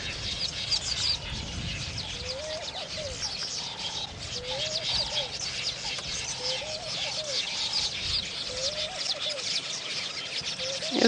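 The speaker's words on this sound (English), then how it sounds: "These are village weavers." Village weavers chattering in a busy chorus, with repeated short buzzy, rising calls over a constant hiss of bird noise, steady throughout.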